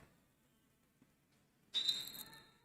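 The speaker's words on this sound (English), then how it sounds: "There's the whistle, they're off" A referee's whistle starts a roller derby jam, a sudden loud shrill blast that holds for a moment and then fades into crowd noise in a flat track arena.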